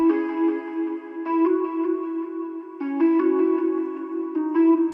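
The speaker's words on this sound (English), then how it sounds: "This is a Stage 73 preset called Clean Mark 5" A Stage 73 electric piano on the Clean Mark 5 preset plays a counter melody, bell-like notes with echo tails, a steady line with short clusters of ascending notes at each bar's end, clear and moderately loud without talking.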